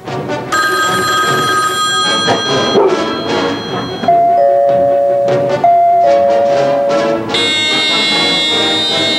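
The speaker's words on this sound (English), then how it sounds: "To most people, a telephone ring, a doorbell, or the buzz from a smoke alarm are sounds" A telephone or doorbell rings in a quiet room: a sustained electronic ring, then a two-note chime that repeats, then another bright ringing tone, all loud and close with no talking.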